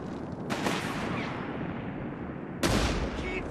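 Gunfire in the Company of Heroes 3 video game during the Afrika campaign, two sharp loud shots about two seconds apart cutting through a steady rumble of distant battle.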